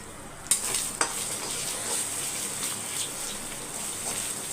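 Spoon stirring turmeric powder into food frying over low heat for chicken fried rice, a steady close sizzle with two sharp scrapes near the start and soft stirring continuing throughout, no voices.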